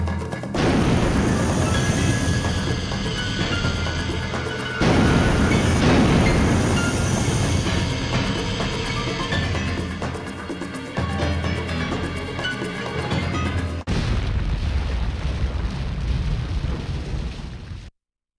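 A missile launch and explosion in the Sonic Adventure video game: a sustained, loud rumbling roar that surges twice, with rattling debris continuing throughout, and no talking.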